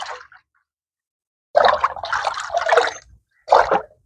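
Liquid garden fertiliser mix poured into water in a container on a terrace garden, short splashing gurgles in separate bursts with silent gaps between, close and clear with no talking.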